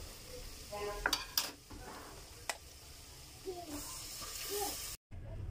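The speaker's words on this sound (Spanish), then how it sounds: "procederemos a agregar la cebolla finamente picada para que se sofría. Removeremos constantemente" Finely chopped onion sizzles softly in a pan for lasagna sauce while being stirred, with a quiet hiss broken by a few clinks and scrapes of a utensil against the pan, close and low in level.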